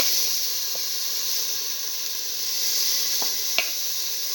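Mint leaves sizzle in a hot pan for an okra and split mung bean stew, giving a steady broad hiss with a few faint clicks and pops toward the end.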